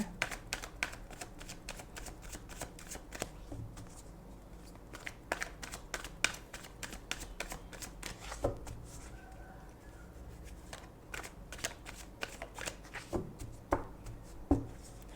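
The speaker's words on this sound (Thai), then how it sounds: "เราไปเริ่มสับไพ่นะคะ เพื่อที่จะได้เลือกไพ่กันเลยนะ" Tarot cards being shuffled by hand at close range, a quiet continuous run of crisp riffling clicks and flutters lasting well over ten seconds with no voices.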